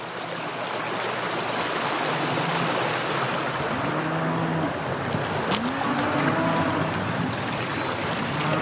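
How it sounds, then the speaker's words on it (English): Continuous rushing of a small creek waterfall, steady and close, with faint low sounds drifting through the splashing water. "I think we got us a little waterfall over here, as Ranger and Ransom would say."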